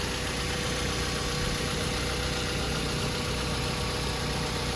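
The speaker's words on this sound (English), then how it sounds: "very smooth running engine, no odd noises or vibrations" A 2010 Mazda 3i engine idles up close with a smooth, steady hum and even low rumble, no changes in speed throughout.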